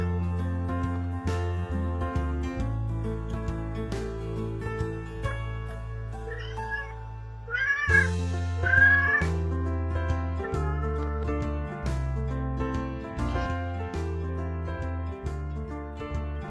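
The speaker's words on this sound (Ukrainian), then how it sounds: "Ну, звісно, це котик." A cat's meow rises briefly over steady, bright music in the middle of the passage, with the tune continuing loudly before and after.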